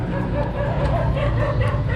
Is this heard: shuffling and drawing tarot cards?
no